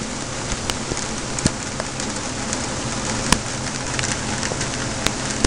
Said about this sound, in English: It's raining on my head. I'm getting soaking wet, and I'm on my balcony